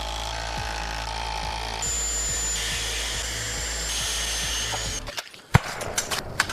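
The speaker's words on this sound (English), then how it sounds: "So I'm going to put some screws in there." A power drill drives screws into wood while building low-profile vehicle ramps, its motor whine holding steady and loud for about five seconds before stopping, followed by a few sharp knocks and clatters.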